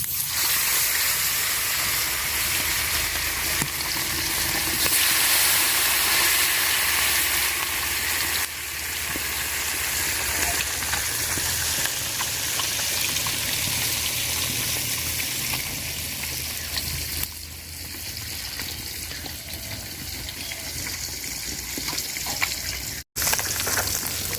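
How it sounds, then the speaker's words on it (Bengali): Loud, continuous sizzling of small puti fish coated in turmeric and salt frying in hot oil, a dense crackling hiss that holds steady with small pops, no voices. "তেল গরম হয়ে গেছে মাছ আমি হলুদ আর লবণ দিয়ে মাখায় রাখছিলাম তো মাছ দিয়ে দিলাম"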